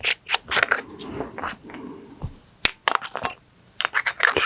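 A flashlight battery is handled and pushed back into an XURLEQ 6000-lumen light, giving close, scattered scrapes, clicks and small knocks in an irregular series, with no talk.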